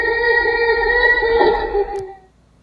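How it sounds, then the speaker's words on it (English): A gorilla gives a sustained, strongly tonal call lasting about two seconds. It is loud and close with no talking, then breaks off sharply and falls quiet. "Gorilla."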